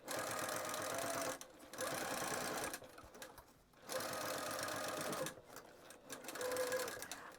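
A sewing machine stitches a pouch seam in close, rapid mechanical chatter, running in three bursts separated by short pauses.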